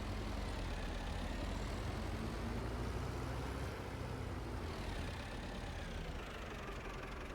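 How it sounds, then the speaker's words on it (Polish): A tractor engine drives in the video game Farming Simulator 25, a steady, rumbling mid-to-low drone that holds evenly throughout and sits fairly quietly without any talk. "podjedziemy tu ciągnikiem"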